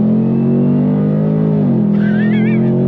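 A 2024 Ford Mustang GT V8 accelerates hard in a loud, close, rising engine roar, with a brief tire squeal as the pitch drops near the end.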